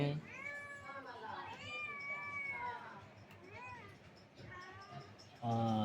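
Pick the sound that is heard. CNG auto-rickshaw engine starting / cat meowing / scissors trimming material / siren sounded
cat meowing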